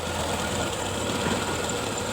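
A car engine idles during a tune-up, a steady close mechanical chatter with a fine ticking rhythm over a low hum, alone for a couple of seconds.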